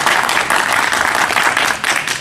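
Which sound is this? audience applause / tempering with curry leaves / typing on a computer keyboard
audience applause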